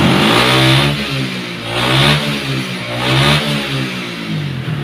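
Carbureted Honda Beat scooter fitted with a Shogun CDI, revved hard up close in repeated surges, the engine note climbing and falling about three times in a loud, buzzing rhythm.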